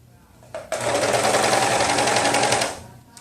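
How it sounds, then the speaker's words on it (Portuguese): An overlock machine stitches the armhole of a T-shirt in one loud, close burst of rapid buzzing lasting about two seconds, starting abruptly and winding down, with a faint voice before and after. "agora eu vou passar na cava, nas cavas das costas"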